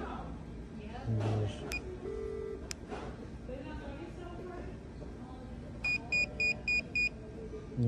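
Two-way pager of a Scytek A4.2W remote start system sounding a short run of repeated electronic notification beeps near the end, amid room noise and low background voices.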